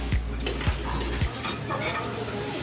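A cooking pot is set down and shifted on a heat conducting board over a gas stove, giving a few metallic clunks and scrapes against a steady background hiss.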